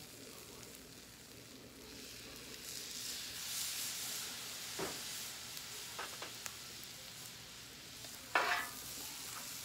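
Hibachi-style stir-frying with soy sauce: a faint, steady sizzle with occasional scraping stir strokes and a sharper burst near the end, and a brief spoken word.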